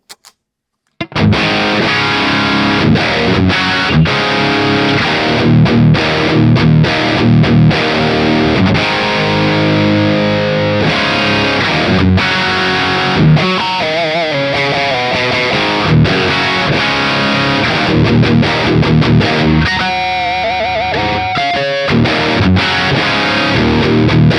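Heavily distorted electric guitar riffs through a JCM 800 amp model on a Valeton GP5, played continuously with a thick, saturated crunch, loud and up close, with chords and single-note runs.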